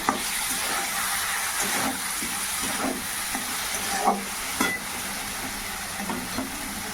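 Tomato masala with cumin and coriander powder fries in oil, giving a dense steady sizzle with occasional soft stirring scrapes and clicks, close and without speech.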